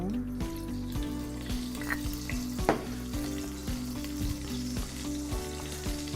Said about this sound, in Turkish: Açık olan ocaklardaki tencerelerime yağımı ekliyorum